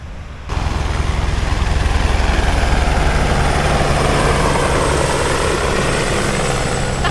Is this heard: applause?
no